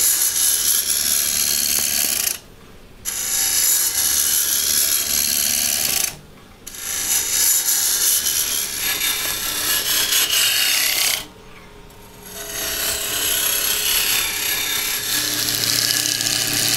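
A roughing gouge on a wood-turning lathe cuts green wood into a garden gnome's hat, producing a continuous loud rasping, rubbing scrape broken by three brief pauses where the tool lifts off.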